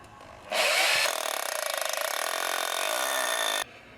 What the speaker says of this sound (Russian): И просто на основе делаю отверстие в бетоне.